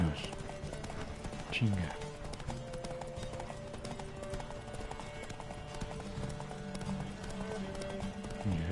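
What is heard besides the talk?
horse galloping, clip-clop of hooves during a race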